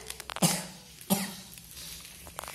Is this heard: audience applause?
no